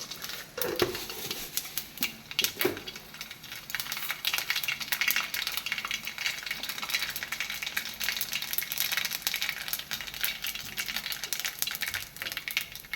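Mustard seeds fry in hot oil for a Kerala snack made with sago, crackling and popping in dense, irregular bursts over a steady sizzle, heard close up without speech.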